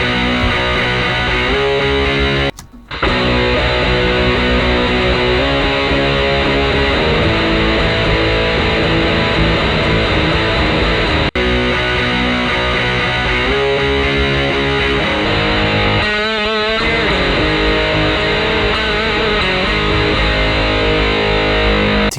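A heavily distorted electric guitar through a Boss DS-1 distortion pedal plays loud, sustained riffs and chords continuously, with one brief dropout near the start.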